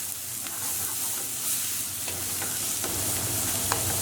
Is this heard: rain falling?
no